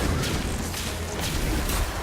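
Golden Gun shots in the video game Destiny 2 come as heavy booming blasts with crashing impacts over a dense, continuous wash of game noise, loud and close, with no talk.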